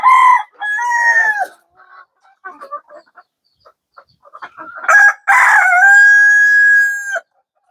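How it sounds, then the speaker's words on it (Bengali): A desi (native) rooster crows loudly and close by, with scattered hen clucks in between before a second long crow. "ওর মুরুগ এত সুন্দর দেখা যায়"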